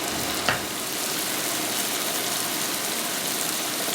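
Tomatoes and scallops sizzle steadily in a pan of Calabrian chili tomato sauce, a dense, even crackle that holds close and loud throughout, with one brief soft knock near the start and no voices.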